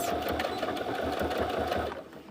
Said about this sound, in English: at the end, you want to back stitch again to hold that stitching in place